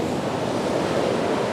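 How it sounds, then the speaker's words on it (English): Ocean waves wash and splash against coastal rocks, a continuous broad rushing roar with some wind noise on the microphone, steady and fairly loud. "I'm just trying to capture the waves as it comes through and it splashes up against the rock"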